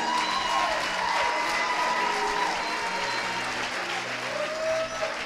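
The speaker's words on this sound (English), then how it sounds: "Clap your hands for the youth pastor." A church congregation claps hands in a steady, sustained burst of applause with some cheering and a few sustained tones underneath, loud and continuous throughout.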